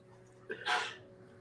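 A single short sneeze, fairly quiet and close, with a faint intake before the burst and room silence around it.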